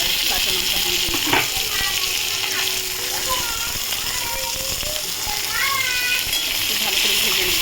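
Onion, ginger, tomato and green chili fry in a pan with a steady, continuous sizzle, while faint high chirps and distant voices sit in the background.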